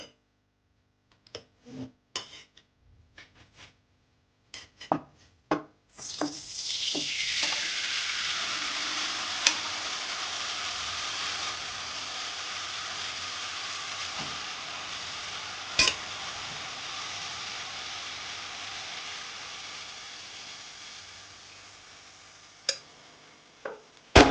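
A few sharp clicks and taps, then rendered pork fat hits a hot clay pot and bursts into loud sizzling that slowly fades over the following seconds.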